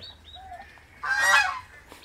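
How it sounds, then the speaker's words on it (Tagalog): Goose on a Philippine farm letting out a single loud, harsh honk near the microphone, preceded by a few faint softer bird calls in the background. "Tapos may mga gansa"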